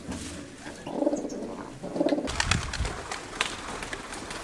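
Diving pigeons in Kozani coo in two low throaty bursts close by, followed by a rougher fluttering stretch that may be wingbeats, with no voices.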